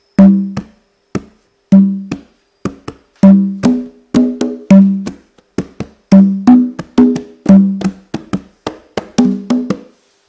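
Two interlocking Latin drum rhythms on hand drums, sharp loud slaps and resonant tones in a repeating syncopated pattern, close and dry with no other sound.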